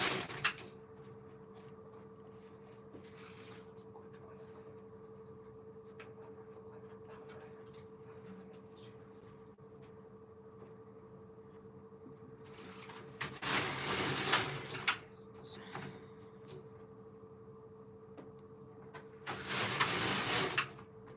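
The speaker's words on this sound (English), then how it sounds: "you just need to pull and push the machine head like this" A Silver Reed knitting machine head is pushed and pulled along its 150-needle bed, two bursts of rattling clatter rising over a quiet steady hum, with long still gaps between passes.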